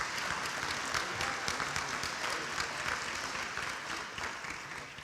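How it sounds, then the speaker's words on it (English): An audience in a hall applauds at a high school football hall of fame induction ceremony, a dense, steady clapping that fades slightly toward the end, with no speech over it. "Let's give him another nice round of applause."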